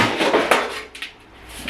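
Kitchen pans being sorted and handled during a decluttering session, giving a short burst of metallic clatter and scraping close by, fading after about a second, with no talk.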